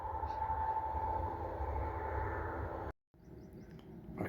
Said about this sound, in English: Just videoed a diesel locomotive.